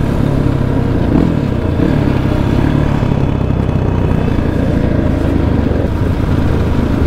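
A motorcycle ridden at night near Lembang, its engine giving a constant close, loud rumble with rough wind buffeting throughout and no clear speech.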